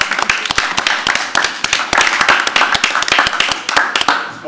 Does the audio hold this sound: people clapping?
yes